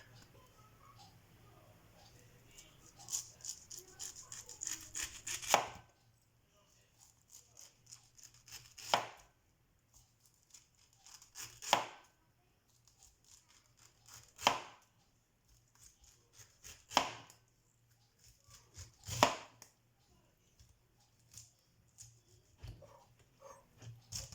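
A knife cuts through a whole pineapple in a quiet kitchen: sharp, crunchy chops land one at a time every few seconds, each followed by near silence.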